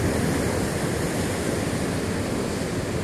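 Ocean surf at Bantry Bay in Cape Town, South Africa, a steady, loud wash of breaking waves filling the whole stretch with a continuous roar and a touch of wind.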